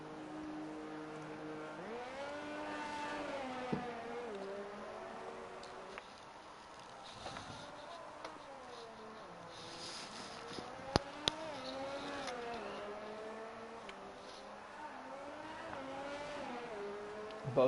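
Race car engine in F1 2019 on the Russia circuit pulling away again, a steady buzzing note rising and falling through gear changes, sustained and moderately loud, with other cars droning faintly around it.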